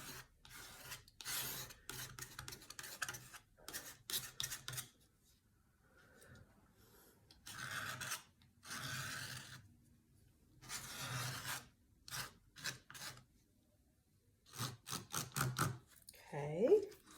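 A palette knife scrapes lines into thick paint in short, close rasping strokes that come in bursts separated by quiet pauses, with a voice talking over some of them.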